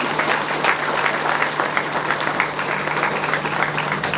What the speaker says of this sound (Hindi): हम लोग तालियों के साथ इनका मंच पर स्वागत करेंगे